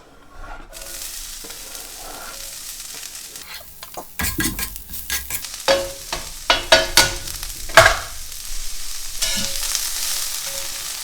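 Onion hits olive oil on a well-seasoned griddle with a sudden burst of sizzling, followed by a run of close scraping and clattering as the pieces are pushed around, then a calmer sizzle.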